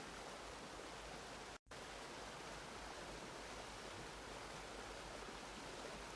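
A waterfall pours in a steady, broad hiss of rushing water, continuous and even apart from one brief dropout, with no voices.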